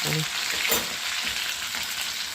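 Stuffed bell peppers fry in hot oil in a pan, a steady close sizzle that continues evenly throughout.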